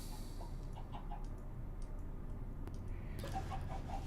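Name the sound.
chickens clucking from a chicken machine in a video game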